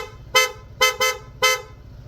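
Four short honks from an aftermarket PIA horn on a Honda ADV160 scooter, bright and nasal, the middle two close together, with a low engine idle underneath.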